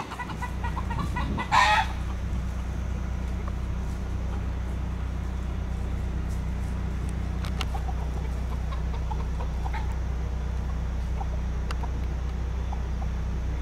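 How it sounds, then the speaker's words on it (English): A chicken clucks and crows once, loud and near, beside a road on Christmas Island, then fades into a steady low rumble of traffic and wind, with faint bird calls scattered through the rest. "Chicken crossing the road, it's dangerous."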